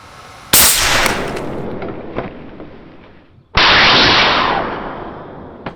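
Homemade shockwave cannon fired twice, each shot a sharp loud crack followed by a long hissing, roaring blast that fades over about two seconds, heard from a little distance.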